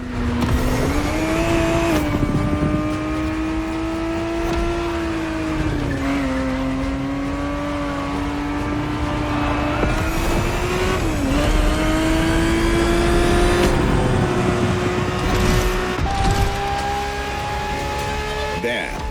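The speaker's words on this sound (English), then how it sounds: "The Ferrari 365 GTB4 is the perfect vehicle for you to experience Ferrari racing as it felt back in the 70s" Ferrari 365 GTB4 racing engine in The Crew Motorfest, a loud continuous roar that rises and falls through gear shifts and revs, with brief tire squeals, heard up close for the whole stretch.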